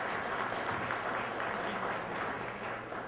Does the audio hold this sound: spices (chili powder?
no